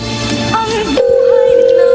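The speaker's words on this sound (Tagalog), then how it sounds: "Ayan, nagre-ring ang phone niya." A phone call's ringback tone sounds as a steady, loud electronic tone, starting after a second of background noise and continuing without a break.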